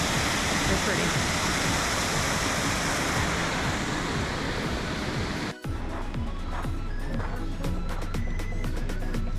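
Steady broadband rush of a waterfall near a restaurant in Rockport, Maine, loud and continuous for about five seconds before cutting off abruptly, then giving way to a quieter background with scattered faint sounds.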